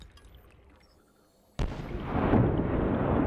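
Lava explosions in the video game Subnautica: after quiet rumbling, a sudden deep boom erupts at about 1.6 seconds and swells into a loud, sustained roaring blast that carries on to the end.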